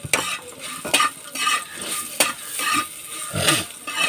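Food fries in a pan with a steady sizzle, punctuated by sharp clinks and scrapes of a utensil stirring against the metal.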